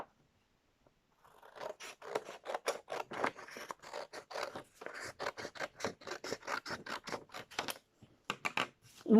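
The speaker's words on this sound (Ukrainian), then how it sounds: "І лишнє відріжемо ножицями" Scissors snip through folded paper in a quick run of crisp, close cuts, pausing briefly before a few final snips; no talking.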